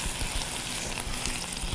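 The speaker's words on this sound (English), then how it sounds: "Now let me start with a little stir." Tomato sauce sizzles and bubbles in a hot pan while being stirred, a steady dense crackling hiss that stays constant and close throughout with no voices.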